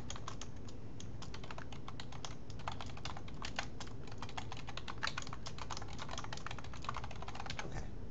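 Steady, rapid typing on a computer keyboard fills the whole stretch, with dense, even key clicks close by and no voices.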